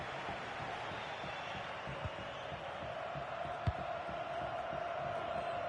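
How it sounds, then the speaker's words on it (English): Football crowd at a trial tournament match, a steady broad roar of cheering and noise held throughout, with one brief sharp knock near the middle. "The crowd certainly think so. Just listen to that noise."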